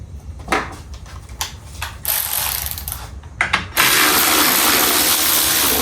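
Ratchet wrench with a 10 mm socket on motorcycle bolts near the carburetor: several rapid clicking ratchet bursts close by, followed by a loud steady hiss-like mechanical noise over the last two seconds.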